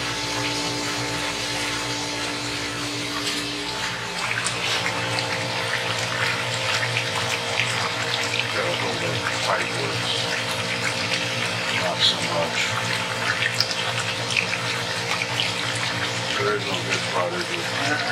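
Water rushes steadily while a geothermal system is being flushed, a continuous pumping flow with a low mechanical hum beneath, and people talk intermittently over it.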